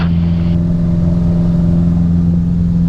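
Piper PA28 light aircraft engine on its takeoff roll, a loud steady piston drone with a strong low hum holding even and close throughout.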